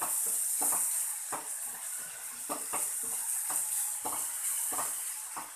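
Chicken frying with ginger garlic paste and masala in a pan, a steady close sizzle with repeated stirring scrapes at an irregular beat throughout.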